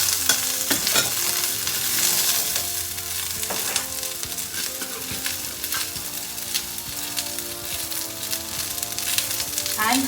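Onions frying in a pan with asafoetida, a dense constant sizzle heard up close, punctuated by occasional spatula scrapes and taps, with faint background sounds underneath.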